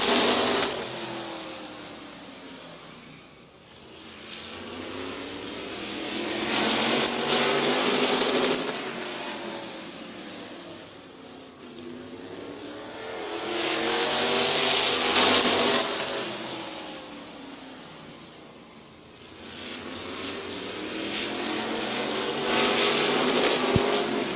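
Race cars circle Midvale Speedway, engines swelling loud as the pack passes close and fading as it moves away, with several passes in a long wavering roar.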